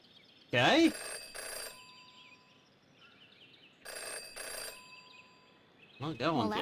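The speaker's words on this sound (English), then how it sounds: "In her short time as a detective, Jenny had learned never to ignore a ringing phone." Telephone ringing in the video game Jenny LaClue: several bright, trilling electronic rings in short bursts with quiet gaps between them, fairly clear and near, with brief voice-like game sounds at the start and end.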